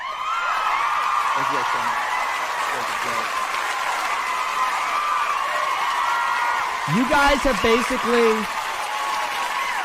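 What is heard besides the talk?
audience applause and cheering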